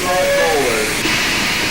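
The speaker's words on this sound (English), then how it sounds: "This is the Grand Parade, steam engines." Steam engines at a grand parade, including one built in 1910, give off a loud, steady hiss of escaping steam, with a brief whistle-like tone early on and people talking underneath.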